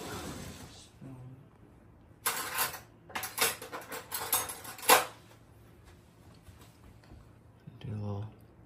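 A metal spoon clinks against a dish while fruit is tasted, giving a few light, close taps in a cluster, with quiet gaps around them and a voice at the start and end.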